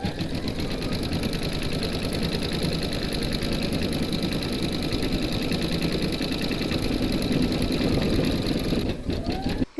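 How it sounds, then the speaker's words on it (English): An embroidery-style sewing machine stitches a quilt block motif in gold thread, a loud, steady, fast mechanical whir and rattle running continuously before halting at the end. "we're now going to stitch the one and only round, and that's going to do the motif"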